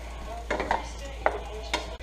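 A utensil scrapes and taps against a frying pan in several short strokes, stirring chicken and vegetables over soft sizzling, close and fairly quiet.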